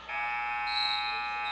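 A loud electronic buzzer sounds in a gym during a girls' high school basketball game, a single sustained tone lasting over a second with faint crowd noise behind it.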